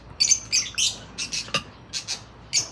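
Pet birds squawking loudly nearby, a rapid burst of harsh, shrill calls in uneven clusters, about eight to ten squawks in under three seconds, with no talking.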